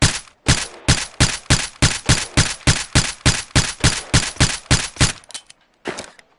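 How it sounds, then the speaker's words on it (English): A Hudson Maxim 9 integrated-suppressor pistol fires in a VR game, about twenty sharp, evenly spaced muffled shots in a steady rapid rhythm, loud and close, tapering to a couple of final shots. "This is the Maxim 9, or the Hudson Maxim 9."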